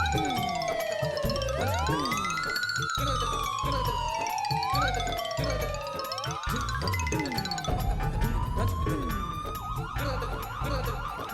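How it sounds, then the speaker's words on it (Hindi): Ambulance siren wailing with rising and falling sweeping tones, several overlapping sirens layered together, loud and continuous throughout with a faint chime-like tone under them. "ये सायरन तो एम्बुलेंस का है।"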